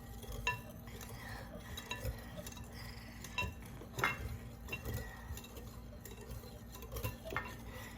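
A utensil stirs eggless chocolate cupcake batter in a bowl, giving soft scraping and scattered clinks against the side, close and fairly quiet, with no talking.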